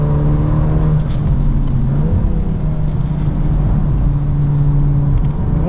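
A 2025 Volkswagen Golf R with all-wheel drive pulls out of a wet corner at Road America, its engine droning steadily and loud from inside the cabin, pitch rising and holding under acceleration.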